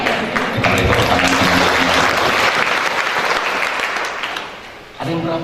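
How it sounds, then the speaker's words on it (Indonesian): An Indonesian church congregation applauds during a pastor's sermon, loud sustained clapping with a faint voice near the start that tapers off, then the pastor's voice returns just before the end. "Kita beri tepuk tangan."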